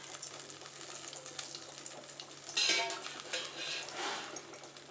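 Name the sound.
chopped onions and green chillies added to hot oil in a pan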